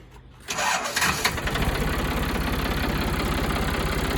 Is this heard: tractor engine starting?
yes